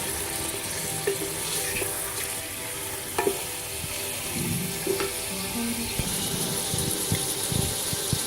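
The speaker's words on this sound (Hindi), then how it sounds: "दरमियानी आंच पर हम इसको फ्राई करेंगे।" Chicken fries in oil over medium heat for a Pakistani chicken korma, giving a steady close sizzle. Occasional scrapes and clinks of stirring in the pan break through the sizzle.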